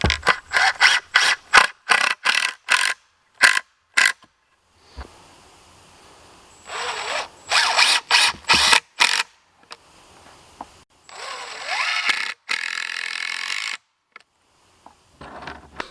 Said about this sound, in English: I'm just going to put that there and screw her down.